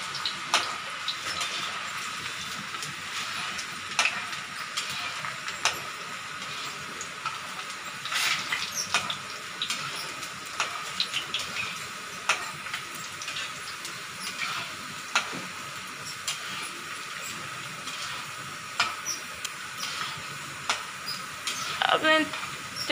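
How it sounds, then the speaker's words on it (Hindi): Banana chips frying in hot oil, a steady broad hiss and bubbling with small crackles throughout, fairly close and continuous. "अब हमारा तेल गर्म हो चुका है। अब हम इसमें चिप्स डालेंगे।"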